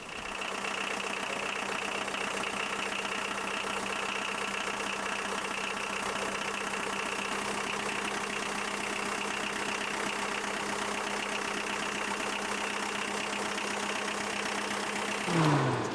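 A steady engine from an old Volkswagen runs at a constant idle on a sailing catamaran, an even droning hum with a knocking pulse that holds for the whole stretch without talk.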